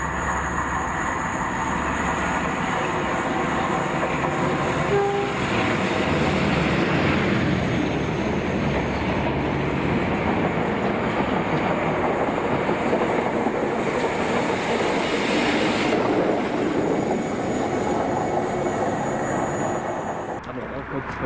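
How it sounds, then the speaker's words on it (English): A train led by Class 47 locomotive 47805 passes Fort Matilda near Gourock in Scotland, a sustained, fairly loud rolling rumble and wheel noise that carries on steadily for the whole stretch. "the train then forms 1Z65, the 1115 from Gourock to Wemyss Bay Junction"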